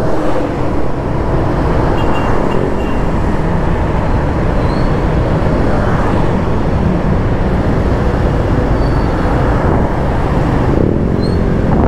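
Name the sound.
road traffic noise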